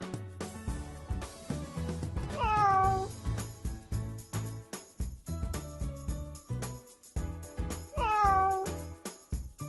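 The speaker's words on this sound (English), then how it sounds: "Let's start with Fluffy the cat" A cat meows twice, each a drawn-out, rising-then-falling call, clear and close, separated by several seconds of busy background music and soft clatter.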